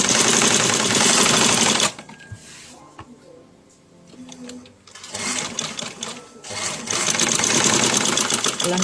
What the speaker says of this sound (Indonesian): Ketika dijahit, angkat sedikit tapak mesinnya, begini ya, itu untuk mengunci jahitan atau mematikan jahitan.